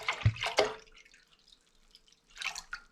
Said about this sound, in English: I'm going to pour my rhubarb liquid into this saucepan.